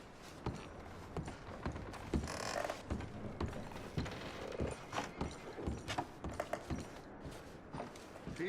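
Horses in the Red Dead Redemption video game being packed, with irregular hoof clops, creaking tack and clinking gear. The sounds are moderately close and come in uneven bursts, with no talk.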